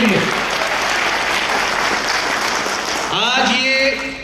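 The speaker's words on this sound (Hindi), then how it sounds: "तो एक जोरदार ताली तो होना चाहिए आप लोगों के लिए।" A crowd at a company success celebration claps loudly and continuously, a dense sustained applause that fades near the end as a voice begins speaking.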